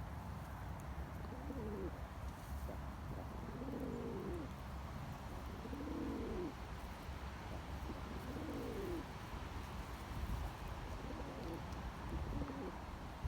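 Pigeons coo in repeated soft, rolling phrases, about five calls spaced a couple of seconds apart, heard close but quiet over a steady background hum.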